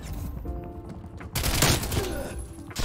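An RPD light machine gun fires in the video game Call of Duty: Black Ops Cold War, with a loud, continuous burst of rapid gunfire and a sharper, denser volley midway through amid game sounds.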